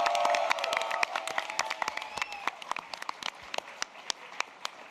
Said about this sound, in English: Please give a round of applause for all the Anime Expo staff